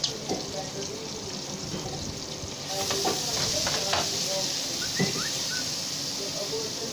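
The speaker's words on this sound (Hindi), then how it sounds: "प्याज को डाल के थोड़ा सा लाइटली ब्राउन करेंगे" Chopped onions hit hot oil and sizzle in a pan, the frying swelling louder partway through with a few clinks of a utensil and faint talk in the background.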